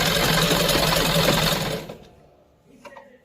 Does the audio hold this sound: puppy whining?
no